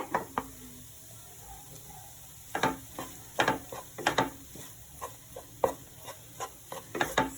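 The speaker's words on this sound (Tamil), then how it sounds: "சாதமும் முட்டையும் ஒன்றா சேர்த்து கலரிட்டோம்னா நம்ம முட்டை சாதம் ரெடி." A spoon stirs and mixes cooked rice with scrambled egg in a pan for Tamil-style egg rice, giving soft irregular scraping knocks and clinks over a faint sizzle, close and fairly quiet.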